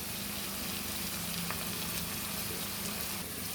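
Onions sizzle steadily in a hot pan for a Telugu spinach and onion chili dish, a dense, even crackle with no pauses and no voices.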